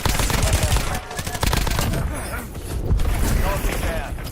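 Rapid gunfire in Call of Duty Black Ops 7, dense loud bursts of shots in quick succession with game effects and scattered voice chatter underneath.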